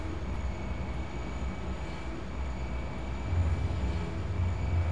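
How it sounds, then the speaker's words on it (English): Tram ride in Entropy: Zero, a steady rumbling rail drone with a continuous low hum and faint high whine, rising slightly louder near the end, with no voices. "This is, certainly a tram ride"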